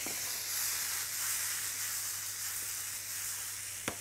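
Frozen peas and carrots sizzle in a pan with garlic, salt and pepper, a steady close frying hiss with faint crackles and no talking.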